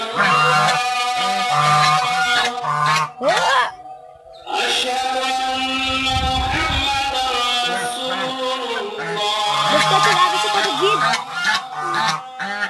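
Geese near their laying spot give repeated harsh honks that mostly come through under a person talking, with a brief gap before the calls carry on steadily.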